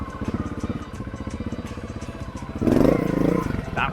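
A Honda Montesa RT trials motorcycle pulls a wheelie, its engine chugging in a steady rhythmic thump up close, then revving louder and harder for the final second.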